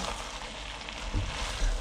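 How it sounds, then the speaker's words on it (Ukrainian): Rice for plov sizzles steadily in a pan as it is stirred, a close frying hiss with a couple of brief scraping pushes near the end, no talking. "Тому останній раз перемішую."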